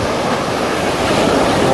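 Ocean surf pounding a rocky cliff shore on the Australian coast, a steady loud roar of breaking waves with hiss and rumble, no let-up and no voices.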